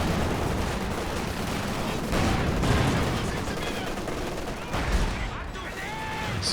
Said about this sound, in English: that's actually a second Katyusha for Stocky. So the artillery really going to ramp up